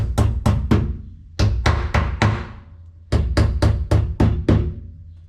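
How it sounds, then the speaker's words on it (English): Sharp hammer blows drive down a tack strip on a 1951 Chevy Fleetline kick panel, landing in quick bursts of three or four, pausing between sets, close and loud. "Hammer that down."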